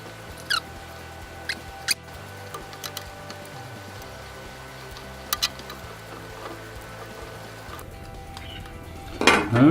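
Small metal nuts are fitted onto screws on a 3D printer heated bed, giving a few sparse, faint clicks and taps in a quiet room, with a louder clatter at the end.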